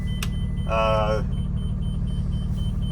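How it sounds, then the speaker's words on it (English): A short electronic beep chirps once as a power inverter kicks over inside a driving motorhome, over a steady low engine rumble, followed by a brief mechanical whir. "That little beep you just heard was the inverter that just kicked over"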